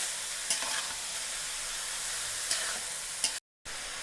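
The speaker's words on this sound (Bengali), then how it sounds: "এটাকে ভালো করে ভেজে নিতে হবে এবার ভালো করে নাড়িয়ে চাড়িয়ে" Sweet potato stir-frying in a pan: a steady, close sizzling hiss with a few sharp scrapes of the stirring utensil and a brief silent gap near the end.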